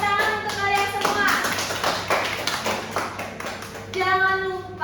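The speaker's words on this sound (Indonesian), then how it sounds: "Tepuk tangan untuk kalian semua." Fourth-grade classroom applause: a group of children clap in quick bursts, close and lively, with young voices calling out between and over the claps.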